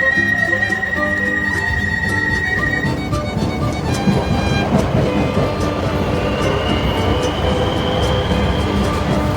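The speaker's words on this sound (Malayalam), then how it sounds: "ഗാൽക്കി സ്റ്റേഷനിൽ എത്തിയപ്പോൾ നമ്മുടെ തൊട്ടപ്പുറത്ത് തന്നെ വേറൊരു ട്രാം" A tram pulls through a station in Dublin near Dalkey, a loud continuous rumble of wheels on rail with a high whining tone that fades partway and another tone rising later, close by and steady.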